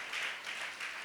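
A church congregation at a Tamil Christian service applauds a guest with soft, distant clapping that swells in gentle waves over about a second.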